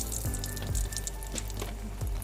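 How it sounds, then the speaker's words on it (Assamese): Dry red chillies frying in hot oil in a wok for a masala rajma dish, a close, soft, steady crackling sizzle with a few faint pops, no voices. "তেল দি শুকান জলকীয়া ভালকৈ ফুটাই লৈছো।"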